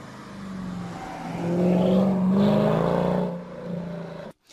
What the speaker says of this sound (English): these have got that wonderful warbly AMG noise of yesteryear before everything went turbocharged